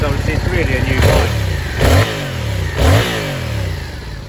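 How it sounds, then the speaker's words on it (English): Yamaha XSR700 motorcycle from 2022 in heritage black, its engine running close by with three sharp throttle blips rising and falling over a steady idle. "Engine sounds exactly as it should."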